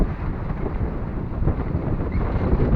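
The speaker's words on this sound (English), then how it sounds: "wind has finally came." Steady wind rushes over a small sailboat at sea, a dense, continuous roar that stays close and loud throughout, with no voices.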